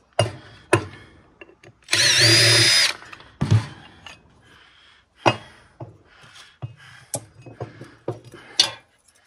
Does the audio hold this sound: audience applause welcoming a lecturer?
no